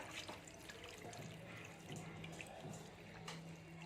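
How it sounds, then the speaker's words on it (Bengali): Water is poured into a pot of chicken with a soft, continuous trickling splash, faint and steady for a few seconds. "এবার এতে জল দিয়ে দেবো"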